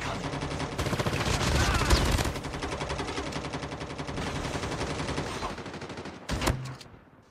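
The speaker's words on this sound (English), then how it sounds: "I'm hearing some shots" Rapid automatic gunfire from the mobile shooter game COD Mobile, including a Type 25 rifle, rattling in dense, sustained bursts for several seconds before a final short volley, with voices faintly present underneath.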